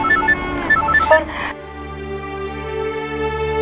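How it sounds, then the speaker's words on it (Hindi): A telephone rings with a repeating electronic tone, first over a busy mix of voices and music, then alone as a steady, sustained tone in a drama scene. "अच्छा, ठुमरी से भी ज्यादा जरूरी रणवीर का फोन है।"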